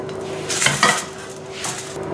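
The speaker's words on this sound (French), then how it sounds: "Il faut rajouter ensuite l'œuf au plat." An egg is cracked into a frying pan during hamburger prep, with a brief clatter and scrape of utensils around a soft sizzle, close by and moderately loud, no voices.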